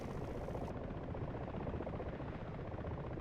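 A nearby helicopter in the DCS flight simulator, carrying a crate slung underneath, makes a continuous whirring, rushing rotor drone at even volume throughout.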